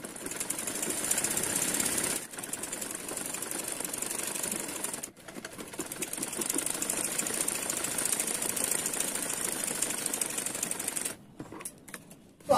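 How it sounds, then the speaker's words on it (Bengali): A sewing machine stitches the side seam of cigarette pants, its needle hammering in a fast steady rattle that stops briefly twice and then breaks into short bursts near the end. "সেম ভাবে ওই পাশটাও একই ভাবে সেলাই করে যাব।"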